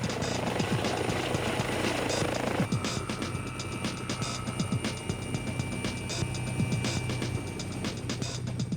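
Police helicopter with searchlight and infrared camera flying overhead, a steady rotor thump and whine throughout, moderately loud and continuous with no talking.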